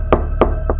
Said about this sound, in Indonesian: tiba-tiba ada suara ketukan dari pintu